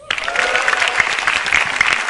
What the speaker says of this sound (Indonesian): Yang jelas tepuk tangan buat komik-komik sebelum saya.